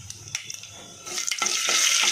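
Tempering seeds fry and crackle in hot oil in a home kitchen while a spoon scrapes and stirs the pan. Sharp pops and stirring clatter build into a denser, continuous sizzle.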